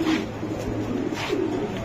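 Young racing pigeons coo nearby, a couple of soft low throaty calls over a short stretch, with no talking.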